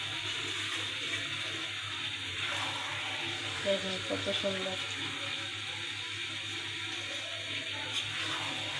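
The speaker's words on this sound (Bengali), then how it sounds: "তারপরে আমরা একটু ঝোলের জন্য পানি দেব।" Water poured into simmering chicken curry with coconut to make gravy, a steady running pour with some clinks of a vessel, under a short spoken remark.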